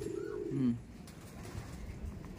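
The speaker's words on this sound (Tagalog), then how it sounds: "May nararamdaman siguro tong ibon na to." A pigeon gives a short, soft coo nearby, followed by quiet background ambience.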